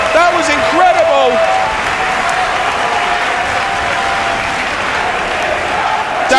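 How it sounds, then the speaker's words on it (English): A wrestling crowd at York Hall roars and applauds continuously after a near-fall, loud dense cheering with a faint commentator voice briefly audible at the start. "Listen to the crowd."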